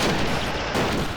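Sniper fire and surrounding battle noise in the WWII strategy game Men of War: Assault Squad 2, a dense, loud, continuous roar of gunfire and explosions across the whole moment with no distinct isolated shot.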